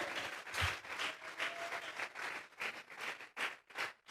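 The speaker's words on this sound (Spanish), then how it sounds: "Vamos a regalarle ofrenda de palmas al Dios de la gloria." A church congregation at a Sunday anniversary service applauds, a dense spread of hand claps from many people that swells and dips in waves for several seconds, with no talk over it.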